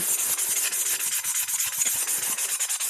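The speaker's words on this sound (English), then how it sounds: "And I just sand it." A tumbler cup being hand-sanded on a drying rack arm, a fast rhythmic rasping scrub of abrasive strokes up and down the surface, close and steady with no talking.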